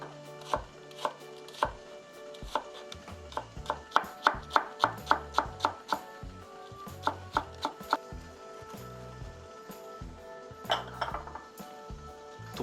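A knife julienning onion into thin 0.2 cm strips on a cutting board gives a run of sharp, close chopping taps, quick and regular through the middle, with pauses and a few lighter clinks.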